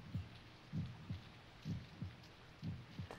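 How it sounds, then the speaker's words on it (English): Muffled, low thumping heartbeat from a horror video game, a steady lub-dub pulse repeating about every three-quarters of a second, close and heavy over faint background hum. "I can hear my heartbeat."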